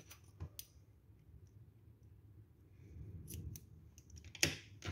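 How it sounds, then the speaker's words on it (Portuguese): Scissors snipping nautical crochet yarn while finishing a half-moon crochet bag, a few quiet close clicks and a sharper snip near the end over a low background hum. "vou cortar esse fio"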